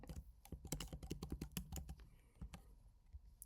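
Quick, irregular bursts of typing on a computer keyboard clatter close by, with keys pattering in rapid runs and brief pauses between them.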